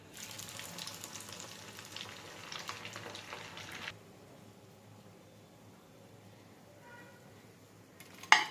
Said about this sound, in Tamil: இதுவும் நான் பொரிச்சு காட்டுறேன்